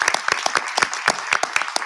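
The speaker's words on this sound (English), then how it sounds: "Let's give one more round of applause." A crowd at a school board of education public meeting applauding, a dense burst of many hands clapping at an even, lively pace, close and steady for the whole short stretch.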